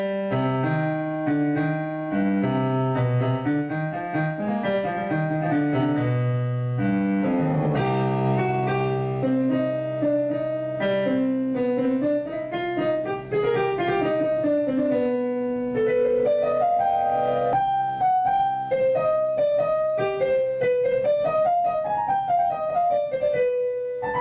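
Piano plays a continuous section of a piece, with rolling low-register patterns under rising and falling melodic lines, steady and moderately loud with no talking.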